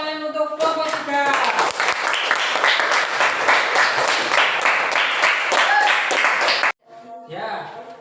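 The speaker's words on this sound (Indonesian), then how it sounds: "kita kasih tepuk tangan untuk kelompok 3." Students in a classroom clap for a group after a movement activity, a dense burst of hand clapping lasting several seconds that stops abruptly, with voices before and after it.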